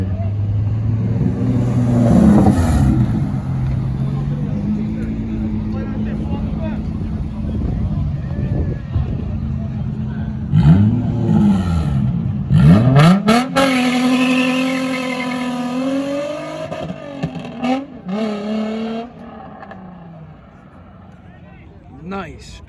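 A BMW at a Pittsburgh car meet with burnouts and donuts revs its engine loudly and close by, in rising and falling sweeps, while people talk and shout over it.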